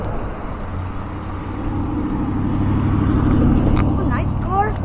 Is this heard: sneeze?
no